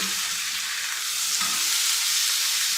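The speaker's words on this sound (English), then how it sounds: "let's give this one more quick stir" Venison steaks and trimmings sizzling in a buttered pan, a dense, close, steady hiss of frying with the soft scrape of a quick stir, no talk over it.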